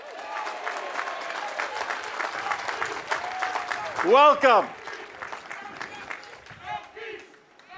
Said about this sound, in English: let's pause and give a round of applause to those who are exercising their First Amendment rights.